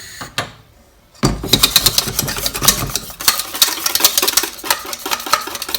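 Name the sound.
whisking béchamel sauce in a pan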